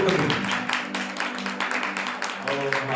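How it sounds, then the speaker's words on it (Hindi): A church congregation claps in praise during a worship service. The clapping is dense and continuous, with some voices and faint music underneath it. "ताली बजाकर प्रभु के नाम की तारीफ करें।"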